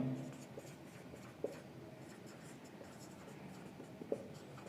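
A pen writes out an accounting solution on paper, giving soft continuous scratching strokes close up under a steady low background hum, with a couple of faint taps.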